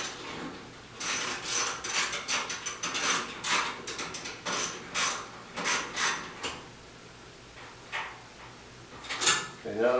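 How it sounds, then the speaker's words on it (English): Screws being backed out of the top panel of a GE washing machine, a run of short clicky ratcheting and scraping bursts close by, with a voice talking briefly over the work. "we'll go ahead and take these screws off so you can see how the top opens"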